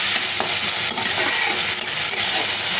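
Veg noodles with tomato ketchup and black pepper are stirred in a hot pan, giving a loud, continuous frying sizzle with scraping and light clinks from the utensil.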